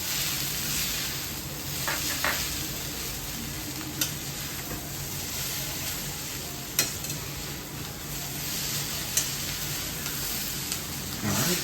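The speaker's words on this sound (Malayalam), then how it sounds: "10 മിനിറ്റോളം തന്നെ നമുക്ക് ഇളക്കി വെച്ച് കൊടുക്കണം ഇതിനൊക്കെ" Chicken noodles with masala are stirred in a pan over high flame, giving a continuous close sizzle and hiss with occasional scraping taps of the spoon against the pan.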